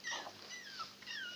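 Pet dog whimpering indoors, a few high, thin whines rising and falling in quick succession, close and fairly soft over a faint room background.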